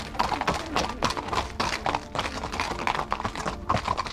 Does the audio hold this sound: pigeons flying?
no